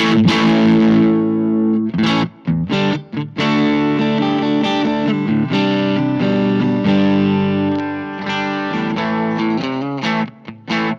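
An electric guitar plays chords and riffs through a BOSS OD-3 overdrive pedal's gritty tone, with short pauses between phrases and sustained distorted notes ringing out.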